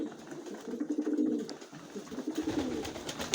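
Pigeons being fed cooing up close: low, throaty rolling coos that swell and fade in overlapping waves, with light rustling around them.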